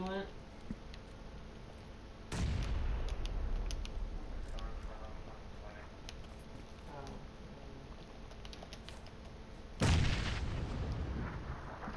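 Grenades go off in the video game PUBG as loud booming blasts, one at about two seconds and another near ten seconds, each followed by a rumbling tail under faint game noise.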